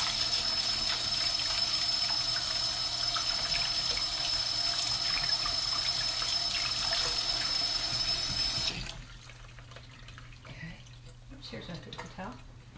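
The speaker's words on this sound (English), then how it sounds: "Wash my hands." Hands washed under a running kitchen tap while cooking, a steady loud rush of water that cuts off abruptly partway through, followed by quieter handling noises.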